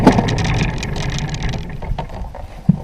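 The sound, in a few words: boat outboard motor running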